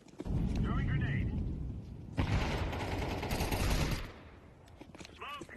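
Heavy, continuous video-game gunfire and a grenade blast roar for several seconds, with dense rattling shots close up and loud throughout.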